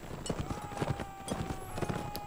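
Horse hooves clip-clopping in a cavalry battle, a quick repeated rhythm of hoofbeats at moderate distance with faint background voices.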